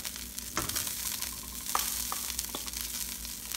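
Ginger fries in a pan with melted fat and a teaspoon of fish sauce, giving a steady soft sizzle with a few light crackles and stirring clicks, close but fairly quiet, no talking.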